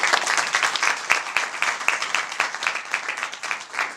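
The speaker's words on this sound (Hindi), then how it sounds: "उसके लिए जोरदार तालियां बजाएंगे।" Congregation applauding in a church worship service, dense rhythmic clapping with sharp individual claps standing out, fairly loud and continuous.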